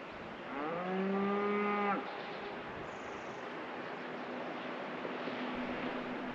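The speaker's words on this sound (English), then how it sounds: "Hear the cow? This echoes." A single low moo from a cow far down in Arizona's Salt River Canyon, about a second long. It echoes off the canyon walls over steady wind and road rumble from a vehicle on Highway 60, with no talking.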